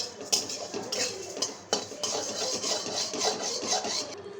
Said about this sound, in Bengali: চিরাটা দিয়ে দিলাম শুকনো খোলায়, তেল ছাড়াই ভাজবো চিরাটাকে